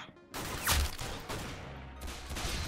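Rapid gunfire in the Roblox shooter Arsenal, a short burst of several shots layered with game effects and background sounds.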